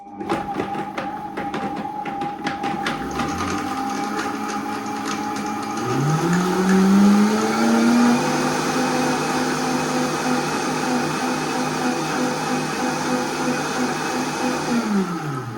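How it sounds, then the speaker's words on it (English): A blender runs continuously at close range, blending hot cacao, its motor pitch rising and settling as it whirs through liquid, with no talking. "and then I blend it."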